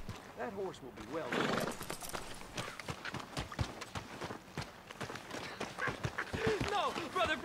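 A horse whinnies and its hooves clip-clop in Red Dead Redemption 2, the neigh rising early on, then hoofbeats and movement under ongoing game dialogue from several voices.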